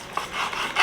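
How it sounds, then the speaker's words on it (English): A new slicing knife drawn through cooked beef cut like brisket, giving a soft rubbing, rasping stroke close by that builds toward the end, with no talk. "I'm using a new slicing knife"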